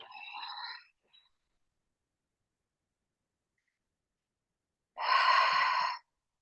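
Breathy exhalations during a yoga hamstring stretch, one soft airy breath at the start and a longer, fuller exhale near the end, separated by silence.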